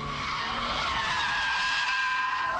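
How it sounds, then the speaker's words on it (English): A car drifts in a power slide, its tires skidding in one loud, continuous squeal that wavers in pitch over the engine's roar. "We're happily power sliding, but too little power, and it straightens up and goes the other way."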